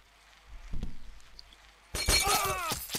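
Glass shatters in the video game Happy Wheels: a sudden loud crash of breaking glass with bright tinkling shards, preceded by a brief softer thump and faint voice.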